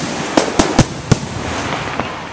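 Canada Day fireworks burst in a quick series of four sharp, loud bangs, followed by a few fainter distant pops over a steady crowd-like background roar.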